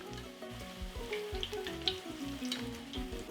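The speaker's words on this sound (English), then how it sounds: "So they fry on all sides" Zucchini fritters (bhajia) frying in hot oil in a pan, a steady close sizzle with scattered crackles and a few soft knocks of turning, no talking.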